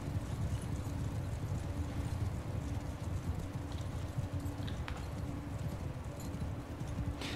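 A horse galloping in Mount & Blade II: Bannerlord, producing continuous rapid hoofbeats that drum steadily and loudly throughout with no pauses.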